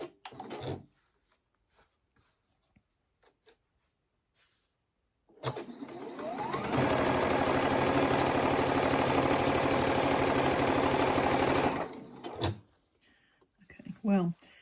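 Sewing machine stitching a Sawtooth Star quilt block: quiet handling noises, then a loud steady mechanical whir that holds for about six seconds before stopping, followed by more handling.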